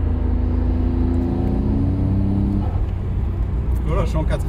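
A Nissan Skyline GT-R R32 imported from Japan cruises steadily in fourth gear, its engine droning in a constant low hum with road noise throughout, and a brief voice near the end.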